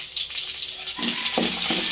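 Onion sautéing in a frying pan for ginisang sayote, a steady loud sizzle with a bright hiss that swells as the onion goes in, close up and with no voices.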